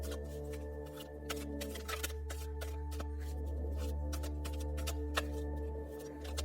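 Tarot cards are shuffled and handled close by, a steady run of crisp riffling flicks and sharp snaps against a low constant hum, with no talk.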